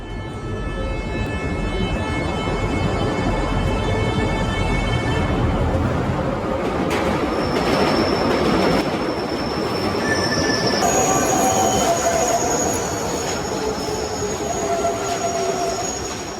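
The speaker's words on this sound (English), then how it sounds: "Let's get back onto the train from Geelong." A train runs from Geelong to Melbourne with a continuous loud rumble of wheels on rails, high squealing wheel tones and shifting whines throughout, heard from on board without speech.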